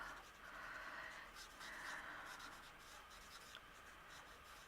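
A blender pen scratches and swishes across paper while colouring, in soft, repeated strokes, close and quiet, with short pauses between strokes.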